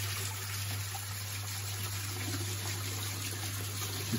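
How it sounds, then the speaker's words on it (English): Water runs steadily in a garden koi pond, a continuous close rush and trickle with a low hum beneath, no voices. "the sound of water"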